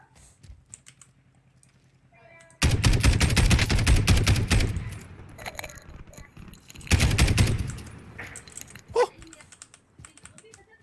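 Video game gunfire in Call of Duty: Warzone: two loud bursts of rapid automatic shots, the first lasting a few seconds and the second shorter, over quieter game sounds and keyboard clicks.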